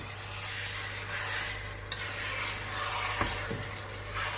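Soaked dal mash frying in a pan on high flame, giving a steady loud hiss with a few brief clinks and scrapes of a stirring spoon.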